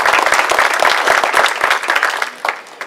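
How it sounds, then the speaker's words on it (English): Audience at an awards dinner applauding the sponsors, loud and close, with sharp individual claps standing out over the crowd before the clapping thins out toward the end. "So let's just give all the rest of them a round of applause,"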